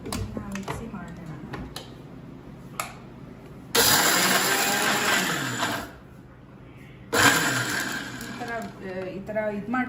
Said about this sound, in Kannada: ಮಿಕ್ಸಿ ಮಾಡೋಣ ಈಗ.